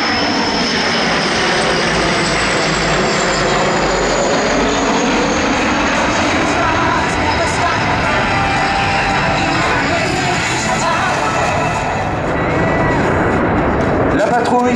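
A Breguet Atlantique 2 twin-turboprop naval patrol aircraft flies over an airshow at La Ferté-Alais, its loud, sustained propeller drone filling the air with a slowly shifting pitch as it passes, while a narrator speaks over it.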